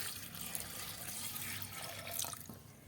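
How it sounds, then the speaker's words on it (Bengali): Water poured into a pot of boiled Kabuli chickpeas with capsicum pieces, a steady splashing pour running for about three seconds, close and moderately loud with no talking. "দিয়ে এবার দিয়ে দিচ্ছি মধ্যে জল।"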